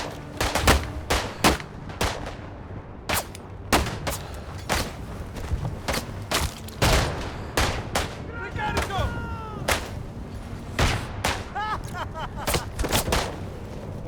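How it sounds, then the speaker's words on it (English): Rapid gunfire from the Isonzo World War I video game in a 48-player battle on the snowy Marmolada mountain map: loud, repeated rifle and machine-gun shots and booms crackle continuously, with occasional faint whistling and ricochet-like sweeps between them. "What are you even shooting at?"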